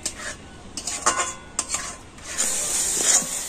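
Thick palm fruit pulp being cooked in a pan for a Bengali pitha, scraped and stirred with a utensil in irregular clinks and rasps, followed by a steady hissing bubble of the boiling pulp.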